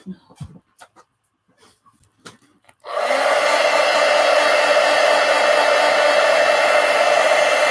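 A hair dryer switches on to dry artwork, jumping to a loud, steady whooshing roar that holds unbroken after a few quiet, scattered sounds.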